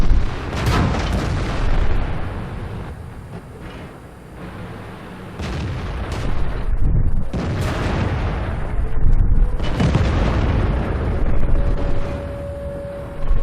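Tank cannons boom again and again in the video game World of Tanks, the heavy blasts and shell impacts landing in irregular bursts, loud and close, with rumbling echoes between shots.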